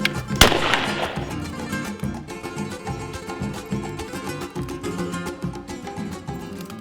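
A single sharp 20 gauge shotgun blast from a reloaded hull rings out close and loud at the start, then fades into a long, rumbling outdoor tail.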